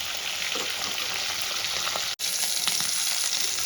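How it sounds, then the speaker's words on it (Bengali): Pieces of katla fish fry in oil with a steady, dense sizzle and crackle, close and fairly loud, broken by one very brief dropout partway through before the frying resumes unchanged. "এই পিসটা এমন লাল করে আমি ভেজে নেব।"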